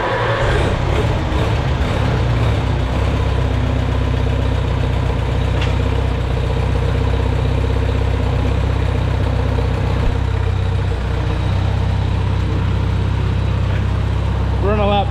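A Farmall Super A tractor engine runs at a steady idle, a loud, continuous close-up chugging rumble after a brief ragged start, with speech heard over it.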